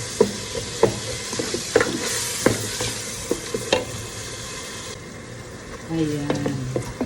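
Seasoning, iodized salt and a Maggi cube being stirred in a pot, with repeated sharp clicks and scrapes of the spoon over a steady sizzling hiss, and a brief low murmur near the end.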